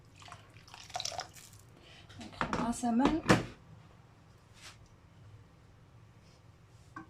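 Hot water poured into a tagine for stuffed vegetables, a short splashing, gurgling pour of a second or so in a quiet kitchen, with soft clinks before and after.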